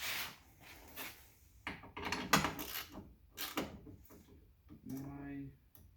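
A ratchet fitted with a wobble extension turns a bolt on the rear window regulator of a 2006 BMW 330i E90, giving short bursts of metallic clicking close by, mixed with people talking.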